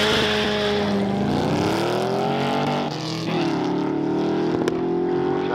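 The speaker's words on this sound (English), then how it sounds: "Sounds like the Simmons has got a V8 rather than the old V6 Ford he had in originally" A V8-powered drag racing car accelerating hard down the strip at a UK street weekend event, a loud continuous engine roar with rising pitch that dips briefly and then climbs again, with no talk over it.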